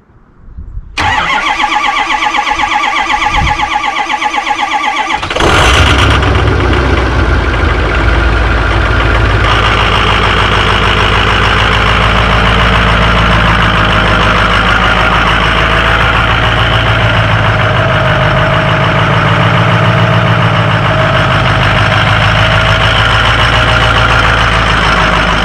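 A diesel truck engine with its exhaust stack stuffed full of snow cranks briefly, then catches with a sharp burst and settles into a loud, steady, knocking idle that runs close and continuous.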